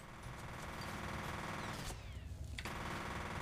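Enemy gunfire in the video game F.E.A.R., sustained rapid automatic firing at a steady level, with a short dip partway through before the shooting continues.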